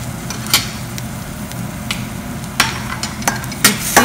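Onion, tomato, salt, chilli powder and cilantro are stirred together for street-style ragada cutlets, giving soft scraping and mixing rustles with a few sharper clinks of a spoon against the bowl, close and fairly quiet.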